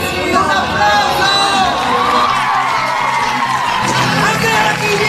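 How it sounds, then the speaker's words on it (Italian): A theatre audience at a youth show cheers, whoops and shouts loudly, a dense continuous crowd roar with excited voices rising throughout. "Forza ragazzi, un applauso!"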